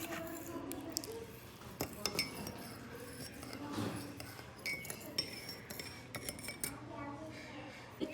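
A spoon clinks against a cup while sugar is stirred into plain black tea, producing scattered metallic taps and chinks amid soft handling noises, with a voice speaking at times.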